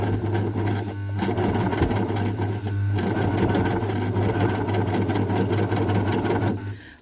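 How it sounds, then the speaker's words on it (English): A home sewing machine zigzag stitches across a thick rope of scrap fabric, a steady close mechanical whirring with rapid ticking needle strokes that strains slightly before winding down. "I also think this rope might be a bit thicker than the one I made the first time, so my machine is not as happy."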